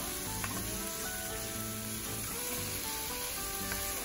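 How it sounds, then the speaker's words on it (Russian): Pork goulash meat sears in a well-heated frying pan over high heat, giving a steady, dense crackling sizzle that stays even and close throughout. "Хорошо нагреваем сковороду и начинаем обжаривать мясо."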